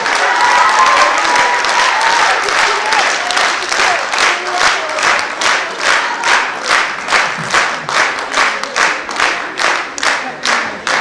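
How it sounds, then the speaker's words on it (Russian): Concert audience applauding a children's dance ensemble at a February 23 holiday concert, steady loud clapping throughout that settles into a rhythmic, in-time beat toward the end, with no speech over it. "Ваши аплодисменты!"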